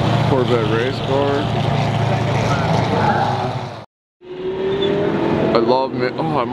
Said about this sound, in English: Corvette race car.